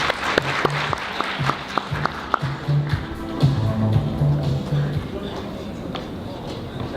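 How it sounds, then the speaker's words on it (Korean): Audience applause at a cloud computing conference track session in Seoul, clapping steadily for about seven seconds with sharp individual claps poking through and faint voices murmuring underneath. "모두 큰 박수로 맞아주시기 바랍니다."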